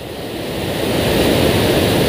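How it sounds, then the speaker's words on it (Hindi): Water rushes loudly and constantly close by, a powerful, hissing roar like a strong torrent or spillway. "भाई, पानी का प्रेशर बहुत है।"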